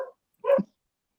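A dog gives a single short bark, close and clear, with the tail of another bark just before it, in an otherwise silent room.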